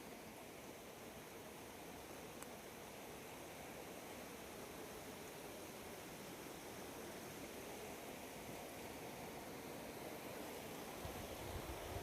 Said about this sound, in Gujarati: જો કેમ પાણી જાય, અવાજ એમાં ખખડે.